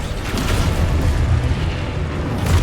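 An explosion spell goes off in the Hogwarts Legacy video game as a loud, sustained, rumbling boom that fills the whole short stretch, with no speech over it.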